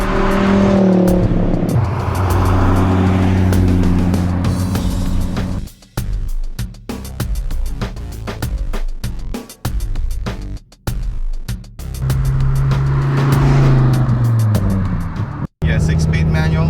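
A sports car with a 6-speed manual T56 transmission runs loudly, the engine droning and rising through revs, dropping off briefly mid-clip before pulling up again, with voices talking over it.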